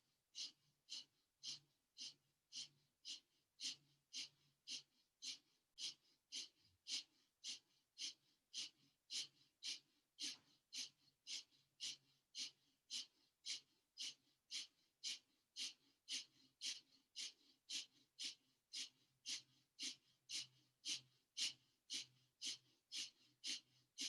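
Breath of Fire, the rapid yogic breathing exercise, comes through as a long, steady train of quick, sharp nasal exhales, several each second. The breaths are close and even and keep a regular rhythm throughout, with no talking.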